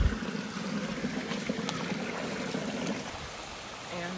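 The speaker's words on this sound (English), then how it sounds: "that's where the waterfall goes down" Small waterfall and stream in Cyprus, a continuous broadband rush of flowing water heard up close and fairly steady, with no talking.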